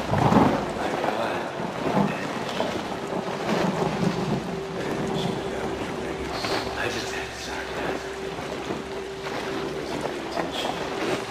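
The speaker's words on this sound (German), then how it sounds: "Es ist verdammt kalt draußen und ich will eigentlich nur rein, weil es regnet." Steady rain hisses throughout with low rumbles of thunder in the game Outlast, a faint sustained tone running beneath, and muffled voice-like sounds mixed in.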